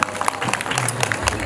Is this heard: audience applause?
yes